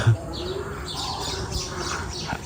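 Baya weaver birds chirp from a tree seen from a village rooftop on a rainy day, a busy series of quick, thin calls that are moderately near against a steady background hiss.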